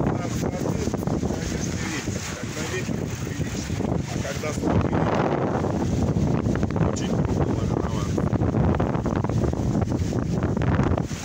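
Gusty wind buffets the microphone in loud, rushing waves, with faint voices underneath.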